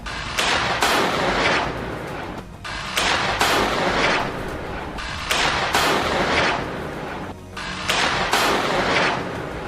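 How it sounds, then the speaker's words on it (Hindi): Rapid bursts of loud launches and blasts come in repeated volleys with brief pauses between them, harsh and close, with no voices. "इसके बाद ये विस्फोटक अपने आप फायर होने लगते हैं।"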